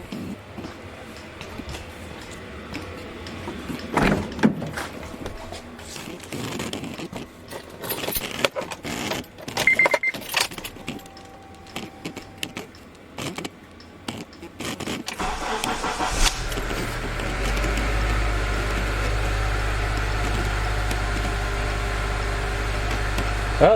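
A 2004 Honda Element, just fitted with a new alternator, cranks and starts after some clicks and jangling, then settles into a steady, close idle.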